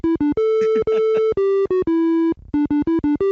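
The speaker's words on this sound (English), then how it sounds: "So this is a triangle oscillator" Synthesized triangle-wave oscillator notes programmed in ChucK, a quick sequence of pure, clean tones in short repeated steps and longer held notes, alone with no voices.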